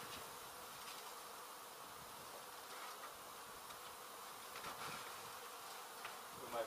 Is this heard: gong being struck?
no